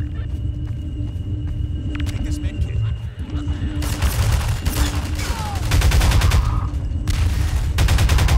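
Gunfire and grenade explosions in Half-Life 2, rapid bursts of automatic fire and loud booming blasts with rumbling echoes and sci-fi tones, a voice talking over the combat at times.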